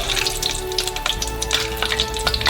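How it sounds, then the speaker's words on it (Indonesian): Corn dogs fry in hot oil, crackling with a dense, steady sizzle and quick popping bursts heard up close, with no voices over it. "Segera setelah hangat, goreng kornoknya."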